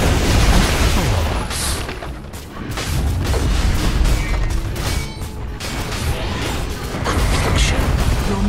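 Barracks collapsing in DOTA 2 as a dense, sustained rumble of crashing and booming destruction, loud and continuous, with faint game sounds underneath.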